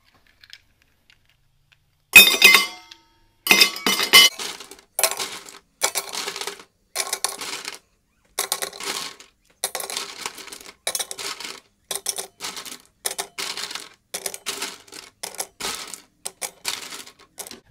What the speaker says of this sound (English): we're gonna use 30 pieces of ice in each tumbler